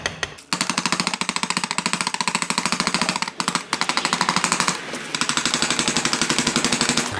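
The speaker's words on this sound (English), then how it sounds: "take my little hammer here and just tap around the edges" A small hammer taps rapidly and steadily around the edges of painter's tape in a car interior, with sharp clicking strikes repeating at an even, fast rhythm for several seconds, pausing briefly twice.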